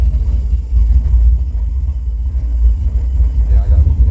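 A turbocharged Chevelle V8 on Holley EFI idles close by, a loud, deep, lumpy rumble with steady pulsing throughout, and talk may be mixed in underneath.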